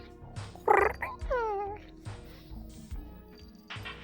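A person imitates a cat's meow with a few rising, wavering vocal cries, close and fairly loud, with brief talk around them.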